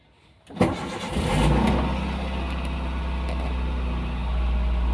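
After a brief quiet moment, a Toyota Avanza cranks and catches. Its engine then settles into a steady, close, continuous idle that lasts to the end.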